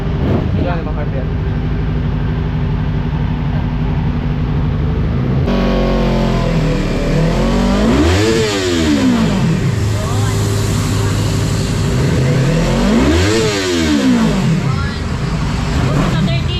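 Stock-ECU-remapped Yamaha R3 motorcycle engine revving up to high RPM, two rising and falling rev sweeps, loud and close, with someone talking over it.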